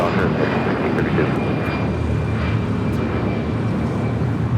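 An airliner taking off from runway 25 right at LAX, a loud continuous engine roar with a steady broadband rush and faint tonal whine, while radio voices come through over it.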